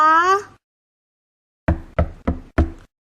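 Four sharp knocks rap on a door in quick succession, close and crisp, following a brief vocal sound and a pause of silence.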